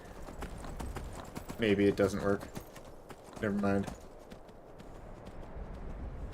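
A horse's hooves clip-clop at a steady walking rhythm in Skyrim, a continuous run of sharp strikes that goes on under two short bursts of someone talking.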